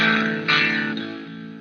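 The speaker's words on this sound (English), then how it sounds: "we're definitely getting kind of a starved fuzz" Electric guitar through a Pine-Box Customs Crooked Teeth fuzz pedal set to a starved, gated fuzz, two sustained sputtering chords with a buzzy, slightly noisy edge, loud and fading.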